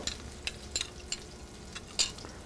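Scallops searing in a pan, a soft steady sizzle punctuated by several sharp clinks and scrapes of a utensil against the pan at irregular intervals.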